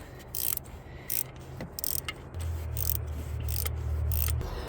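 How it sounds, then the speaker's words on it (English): A 13 mm ratcheting gear wrench works on an alternator in a car engine bay, giving a run of sharp, evenly spaced ratchet clicks close to the mic with a low hum beneath. "I've got a 13 mil gear wrench"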